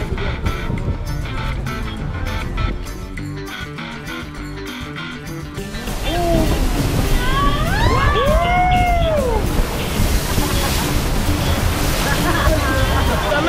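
Water rushes and splashes over riders on a Magic Kingdom water ride at Disney World. After a stretch of music, a loud, steady surge of water noise arrives, mixed with excited screams and laughing voices.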